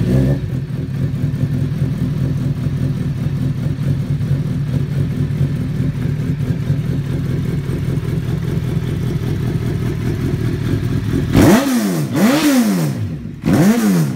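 A Suzuki B-King 1340 motorcycle fitted with handmade exhausts idles loud and close with a steady, lumpy rumble, then the rider gives it several sharp revs toward the end that rise and fall in quick swells.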